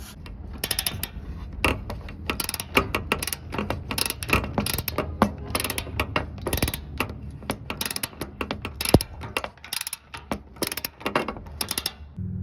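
Ratchet backing out 12 mm front bumper bolts on a Nissan Frontier, rapid close clicking of the pawl in steady bursts with brief pauses, no speech.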